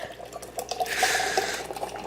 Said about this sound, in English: Put the fucking beer in the glass.